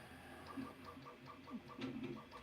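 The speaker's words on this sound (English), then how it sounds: "I've got the 3D printer run there, and you can probably hear that." A 3D printer running in a small home workshop, with regular repeating stepper-motor whines and soft pulsing tones, moderately quiet and steady, with occasional brief higher motor sweeps.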